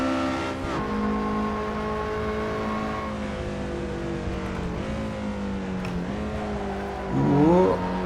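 A Lotus Elise SC RSR laps Mount Panorama at Bathurst, its engine droning steadily at high revs with pitch shifts on gear changes and a brief tyre squeal near the end, heard from inside the car.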